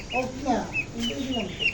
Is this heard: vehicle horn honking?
no